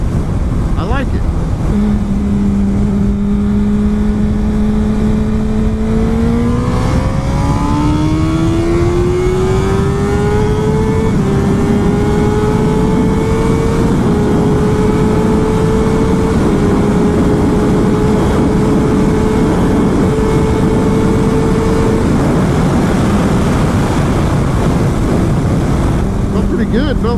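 A Honda CBR600RR motorcycle engine drones loud and steady on a test ride, its pitch climbing through several gear-like steps and then holding under heavy wind rush, fading back near the end.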